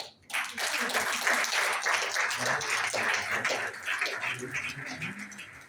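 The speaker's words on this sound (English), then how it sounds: "please give a round of applause" A crowd at a finals session breaks into steady applause right after a brief silence, the dense clapping holding at full strength and tapering slightly toward the end.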